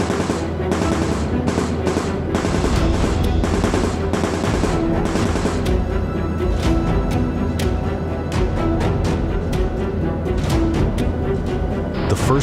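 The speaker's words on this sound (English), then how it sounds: "The defensive gunners on Jersey Bounce Jr. opened fire, their .50 caliber guns rattling as tracers streaked across the sky." Defensive .50 caliber machine guns on a WWII B-17 bomber firing, rapid dense bursts of rattling gunfire over a continuous roar, loud and close, with sharper clusters of shots throughout and no speech.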